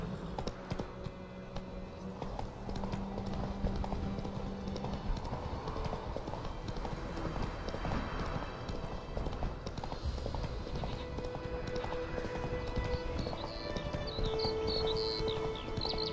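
Horse hooves clip-clop at a steady galloping rhythm in The Witcher 3, running continuously over a bed of game ambience and faint background music.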